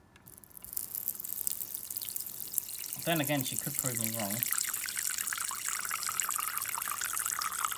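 Water runs in a steady, fairly loud hissing stream into a tarantula's bowl for most of the clip, with a person briefly talking over the flow partway through.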